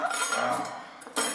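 Food is dished up with cutlery and dishes clinking: a short burst of close metallic and ceramic clatter that fades and then strikes again near the end.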